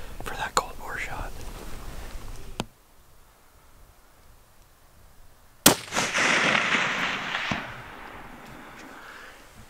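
A hunting rifle's cold bore shot at about 484 yards in Oregon's Coast Range: one sharp, loud crack cutting through low whispered talk, followed by a rolling echo that slowly decays across the hills.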